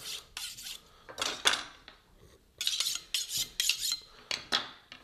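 A knife blade honed back and forth along a sharpening steel: a series of short, bright metallic scrapes in an uneven rhythm, close and moderately loud, with brief pauses between strokes and no talking.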